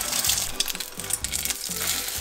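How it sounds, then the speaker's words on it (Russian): Eggs fry in a pan for kimbap, giving a continuous bright sizzle and crackle with a watery hiss underneath, close and steady with no voices. "Теперь жарим яйца, как обычно."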